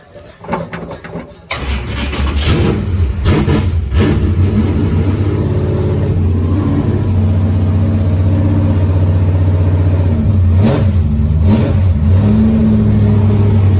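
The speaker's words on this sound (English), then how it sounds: "we'll get a little ignition here and see what happens in neutral" A car engine cranks a few times and catches, then settles into a loud, steady idle in neutral with a couple of brief revs rising and falling over the running drone.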